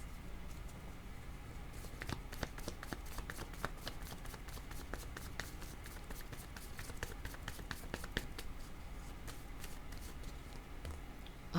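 Tarot cards being shuffled and drawn, a close, quiet run of quick papery flicks and riffles repeating in bursts, no speech.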